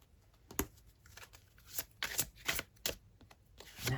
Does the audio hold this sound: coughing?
no